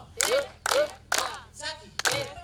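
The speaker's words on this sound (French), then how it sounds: "Applaudissons." A church congregation claps in unison in five loud, evenly spaced beats, about two per second, while voices are heard faintly between the claps.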